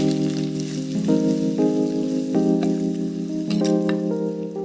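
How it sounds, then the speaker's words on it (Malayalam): Curry leaves hit hot oil with mustard seeds while cooking a Kerala-style prawn dish, giving a steady sizzle and frying crackle that runs through the whole moment, with a bright tonal ringing layered over it. "തീ ഒന്ന് കുറച്ച് വെച്ച് ഇച്ചിരി കറിവേപ്പില ഇടുക."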